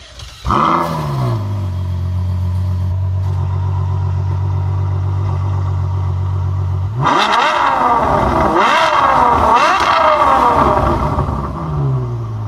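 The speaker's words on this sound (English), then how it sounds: "so we are here driving the Ferrari FF" A Ferrari FF driven on a rainy road, first a steady low engine drone, then loud repeated revving surges through the gears as it accelerates hard, close and clear with no talk.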